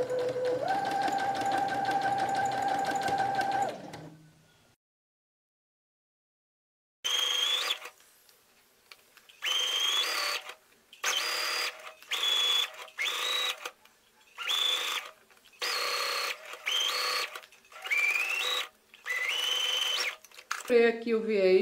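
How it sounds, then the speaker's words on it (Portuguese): Sewing machine stitching bias tape onto a cotton dish towel trimmed with broderie anglaise: one long steady run of stitching, a pause, then a series of short stitching bursts separated by brief stops, close and clear. "eu vou descer aqui a agulha naquela marquinha, vou dar um retrocesso e vou costurar"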